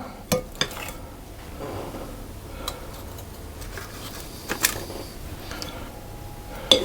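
Thick blueberry muffin batter spooned into a muffin tin, with soft scraping of the spoon and occasional light metallic taps and clinks against the tin, close and quiet.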